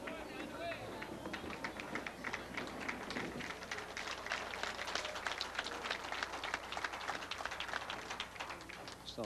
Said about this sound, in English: Well, nice round of applause.